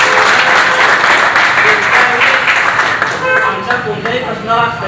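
A crowd at a temple gathering bursts into loud, dense applause for a temple trustee, the clapping sustained then thinning toward the end, with a voice talking over it.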